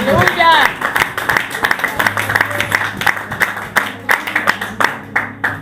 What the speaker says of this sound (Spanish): Denle un aplauso al Rey de Gloria